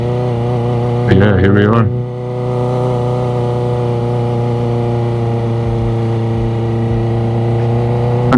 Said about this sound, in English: I know this bike definitely doesn't like trudging around slow speeds too much